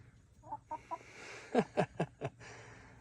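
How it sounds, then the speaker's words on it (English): A few soft clucks, then a run of four louder, sharper clucks in quick succession from large hens and a rooster, close by with quiet background hiss. "These some fat chickens, fat rooster."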